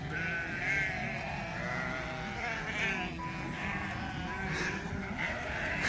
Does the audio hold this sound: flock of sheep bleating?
yes